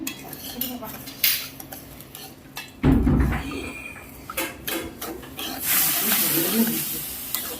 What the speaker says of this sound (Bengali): দিয়ে হচ্ছে ভেজে নিচ্ছি সুজিটা, লাল লাল করে ভেজে নিচ্ছি